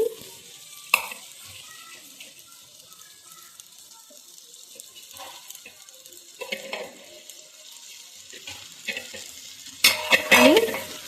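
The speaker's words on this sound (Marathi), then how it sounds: "आता आपण भाजी घालूयात यामध्ये। यामधले कट केलेली तोंडली घालून घेऊया आपण सर्व।" Cut ivy gourd pieces are tipped into a hot tempering and stirred, giving a soft continuous sizzle with scraping and clinks of the spoon against the pan, plus a louder clatter near the end, close up with no talking.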